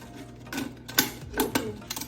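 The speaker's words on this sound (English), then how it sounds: "Then I'll use my zigzag scissors" A few close, sharp snipping cuts of zigzag scissors through a stiff plastic water bottle, spaced irregularly with brief quiet gaps between them.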